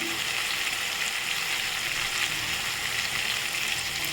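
Masala powders sizzle and fry in hot oil for appalam poo kuzhambu, a steady close crackling hiss with faint stirring, no voices.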